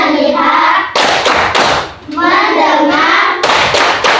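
Schoolchildren in a fourth-grade classroom do a rhythmic focus clap, sharp bursts of many hands striking together in quick patterned groups, loud and close, alternating with a group of voices chanting.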